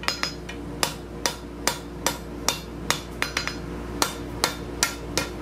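Sharp, ringing hammer blows strike a steel scroll on a bending jig in a fairly quick, uneven rhythm, roughly a couple of strikes per second, each a crisp metallic clang up close with no talking.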